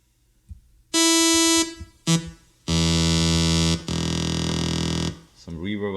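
Buzzy, distorted saw-wave synth bass in an acid style, playing loud sustained notes in short bursts with gaps between them and a brief pitch-sliding tone at the end.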